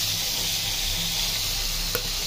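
Shrimp frying lightly in a pan on a home stove, a steady soft sizzle with a faint low hum beneath and one small clink partway through, no voices.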